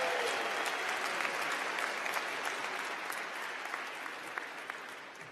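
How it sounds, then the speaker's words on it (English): Applause for master's degree graduates at the winter commencement of the University of Maryland School of Public Health, a large crowd clapping steadily and fairly distantly, slowly tapering. "Let's have another big cheer for our Master's degree students."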